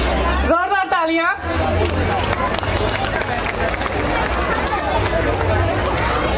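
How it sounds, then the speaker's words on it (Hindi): Audience at a school annual day, a dense sustained rush of clapping and crowd noise that follows a short announcement over the loudspeaker and carries on loud to the end. "जोरदार तालियां।"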